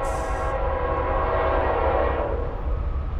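A Norfolk Southern freight train passes close by with a loud, continuous rumble of cars on rails and a brief blast of its horn at the start, the heavy rolling noise filling the whole stretch.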